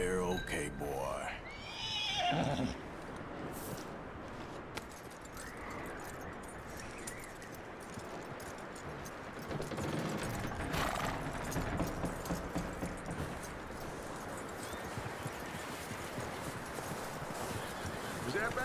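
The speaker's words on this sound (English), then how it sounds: "That looks like a decent horse." A horse whinnies and its hooves clip-clop in the video game Red Dead Redemption 2, sounding at moderate distance amid ambient game noise, with voices talking over parts of it.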